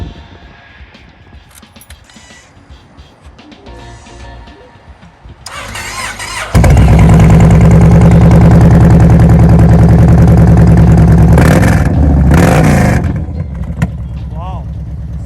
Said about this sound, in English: Can you turn on the engine and we can listen the sound of this bike?